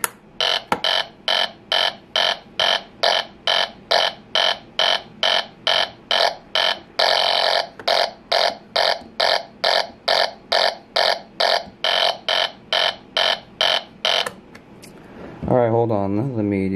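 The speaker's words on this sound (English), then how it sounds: "initially when I turned this on, it should not make noise. It's like a fart machine" A Slick 4300 series magneto under test gives a loud, regular pulsing buzz, repeated about twice a second for most of the stretch, then stops before a short rising tone and someone talking.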